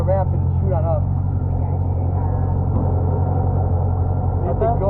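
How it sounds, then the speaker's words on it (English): An amphibious vehicle in first gear climbs out of the water up a ramp, its engine rumbling steadily and close while people talk over it. "It'll get the rear wheels going, and we'll grab the ramp and shoot on up."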